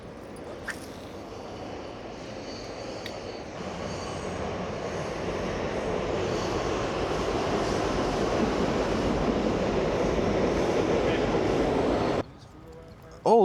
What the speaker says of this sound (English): Well, here comes the train.